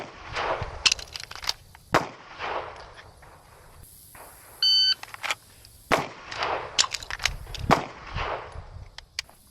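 Several sharp, loud gunshots from a CZ Shadow 2 pistol, fired in uneven bursts with short pauses between them. A brief electronic beep sounds partway through.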